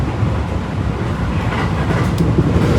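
A train arriving at a station gives a loud, continuous rumble of rolling rail cars with a faint rhythmic clatter, heard alone for a few seconds.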